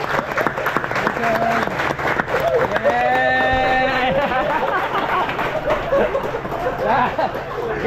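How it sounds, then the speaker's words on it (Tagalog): A group claps steadily for a man named Earl during a Batangas motorcycle ride stop near Malabrigo Lighthouse, loud and continuous, with voices shouting and cheering over the applause throughout. "Palakpak tayo"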